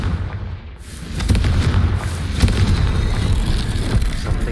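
A Confringo fire spell explodes in the Hogwarts Legacy game, giving a sustained rumbling blast with crackling bursts and booming impacts over several seconds, loud and close, with no talking.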